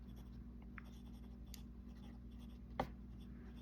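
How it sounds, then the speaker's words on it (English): Fine-tip Wordsworth & Black fountain pen writing cursive on paper, a faint, steady scratch of nib strokes with one brief sharper tap near the end, no voices. "I can write in cursive,"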